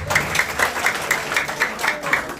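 Audience applause at a product presentation: a steady run of claps at a moderate, even rhythm, moderately close, with some crowd noise underneath.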